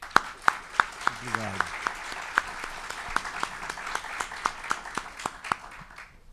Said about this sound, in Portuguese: Palmas para ele.